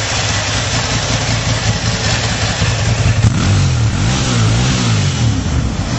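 A Ducati Monster 1100 motorcycle engine, loud and close, idling with a rough throb before being revved up and down several times, with no talking.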